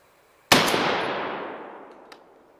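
A single sharp, loud report of an M855 rifle round striking a half-inch mild steel plate, with a bright ringing decay that fades over about two seconds and a faint second tick near the end.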